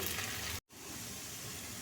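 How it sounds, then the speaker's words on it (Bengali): Steady sizzling of soft dough balls frying in hot oil over a medium gas flame, a continuous crackly hiss with a brief dropout partway through. "এখানে আমার বড়াগুলো ভাজা হচ্ছে"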